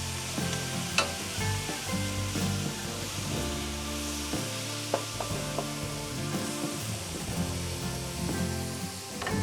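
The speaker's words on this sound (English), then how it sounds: "our mirepoix here with all those veggies we cut up earlier. Lower that heat to medium." Diced mirepoix vegetables for a chicken fricassee sizzle in a pan over medium heat. A steady, close frying hiss runs throughout, with stirring scrapes and a layer of sustained tonal sound underneath.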